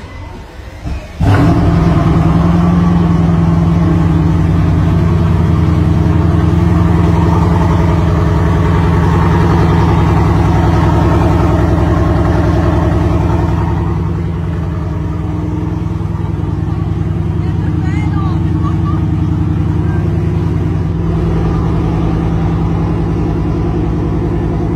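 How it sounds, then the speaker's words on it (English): A single-seat GT supercar fires up with a sharp starter burst, then settles into a loud, steady idle that dips slightly midway and picks up again, close and with no talk. "GT startup, that is mad."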